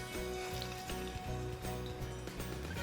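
Medu vada batter fries in hot palm oil, a faint, steady bubbling sizzle with soft crackles and no voices.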